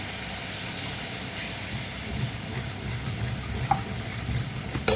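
Water hits a hot pan of caramelized sugar and sets off a steady, loud sizzle and hiss. The sound holds for several seconds, with faint stirring scrapes and a couple of small clinks near the end.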